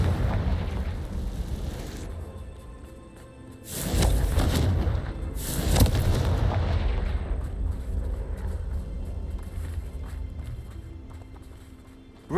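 Confringo fire spell explosions in the video game Hogwarts Legacy: two loud broadband bursts near 4 and 6 seconds over a continuous game soundscape, with the rumble slowly fading afterward.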